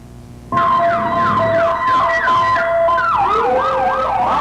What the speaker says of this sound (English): I see the flashing red lights and the sound of sirens, police cars, and a rushing ambulance now just seconds away from the emergency entrance